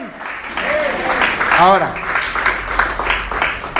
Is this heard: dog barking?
no